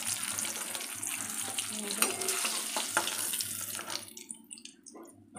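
Fish frying in oil hisses steadily and close, with a few clinks, before the sizzle thins out and fades toward the end.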